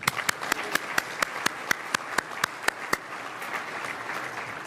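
Audience applause at a city address event in Fredericton, honoring Dave Lawrence and Up 93.1: steady crowd clapping with a few sharp, loud individual claps standing out at a regular rhythm, fading slightly toward the end.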